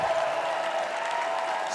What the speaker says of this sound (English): I think we need a little bit bigger round of applause for America's Real Doctor.